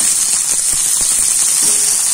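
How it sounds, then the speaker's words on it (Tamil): Pirandai (veld grape) stems frying in oil until brownish give a steady bright hiss with light crackles and a few soft taps scattered through it. "அதுக்கப்புறம் பெரண்டையை மட்டும் நல்லா வறுத்துக்கணும்"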